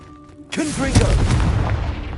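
A Confringo fire blast spell in the Hogwarts Legacy video game erupts with a sudden, loud booming blast, followed by a crackling, rumbling tail that lingers for over a second.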